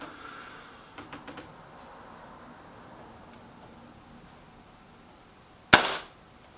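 A springer air rifle, Kral Puncher K or BSA R12 SLX, fires a single sharp crack near the end, loud and close, after a few faint mechanical clicks from handling.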